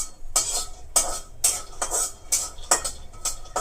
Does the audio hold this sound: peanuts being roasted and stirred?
yes